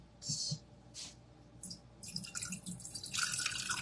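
Distilled water spills from a cup, heard as a few close splashes and drips followed by a longer, louder run of trickling and splattering.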